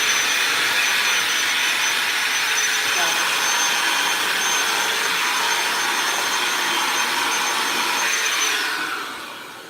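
High-powered battery vacuum cleaner running continuously at close range, a loud steady whirring roar with a high whine that holds for nearly ten seconds before quickly spinning down.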